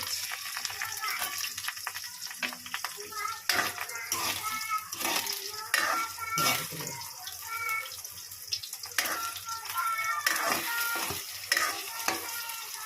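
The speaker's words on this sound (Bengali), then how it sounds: "ভাজা করতে হবে ডিমটা" An egg frying and being stirred in a pan for fried rice, a continuous sizzle with repeated scraping strokes of the spatula, close and fairly loud throughout.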